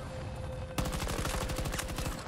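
Automatic gunfire in the video game Battlefield 2042 erupts suddenly after a short quiet stretch, then continues as loud, rapid, rhythmic bursts of shots until the end.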